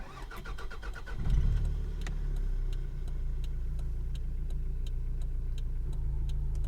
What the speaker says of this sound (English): So this is the idling of the car on LPG.